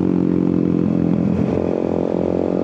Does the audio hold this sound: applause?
no